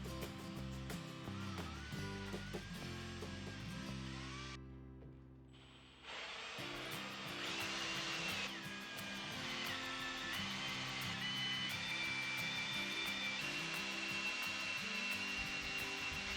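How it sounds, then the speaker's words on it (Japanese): A hole saw on a drill bores a hole through wood for a water supply pipe, with a steady grinding whir that pauses briefly midway and then resumes, loud and close. "この大きさのパイプが通るくらいのホルソーで穴を開けていきます"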